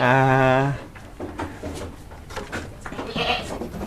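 A Peranakan Etawa goat on a goat farm lets out one loud, close bleat lasting under a second, after which people talk in the foreground.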